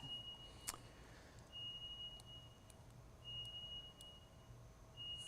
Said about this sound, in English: the beep is relentless